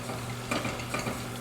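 Flour is stirred into melted butter in a pan for a cheese soufflé base, making a soft, quiet sizzle with a couple of light scraping strokes from the spoon, no voices.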